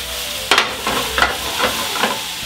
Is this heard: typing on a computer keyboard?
no